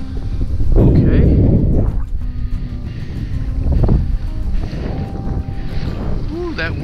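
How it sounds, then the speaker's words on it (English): Strong wind buffets the microphone beside the lower Guadalupe River in Texas while fly fishing for trout, loud rumbling gusts rising and falling throughout, with a voice exclaiming briefly over it. "Ooh, that wind. That wind is no joke."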